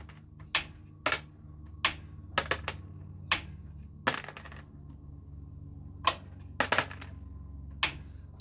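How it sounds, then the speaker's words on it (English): Metal cutters snip through a coiled roll of chainmail jump ring wire, giving sharp, close clicks that come in irregular bursts, sometimes in quick pairs, over a faint steady hum. "So I'm just going to cut the rest of this roll here."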